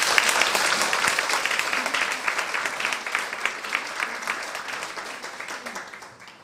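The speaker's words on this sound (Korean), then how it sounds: "우리 박수로 좀 하면" An audience at a prayer meeting applauds to welcome a speaker, steady dense clapping that gradually fades toward the end.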